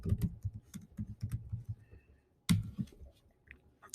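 A computer keyboard being typed on for a search, a close run of quick clicky keystrokes, a pause, then a few more taps, with no voices.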